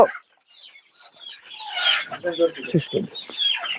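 Fayoumi (Egyptian) chickens cluck and squawk busily nearby during a delivery of a large batch of birds to a farm, with overlapping calls and a person talking among them.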